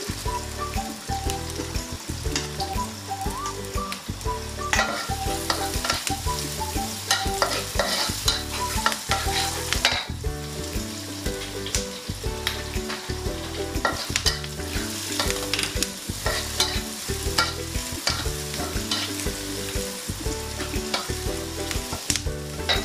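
Garlic fries in a pan with a continuous loud sizzle, overlaid by repeated scraping and clattering of a utensil stirring throughout, with no talking.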